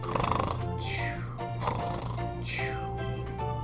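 A voice imitates loud snoring, with rhythmic snorting inhales repeated about three times, close and exaggerated.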